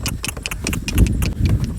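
A donkey cart rolls through a Punjabi village, the animal's hooves clip-clopping in a quick, uneven rhythm with rumbling cart noise, loud and close.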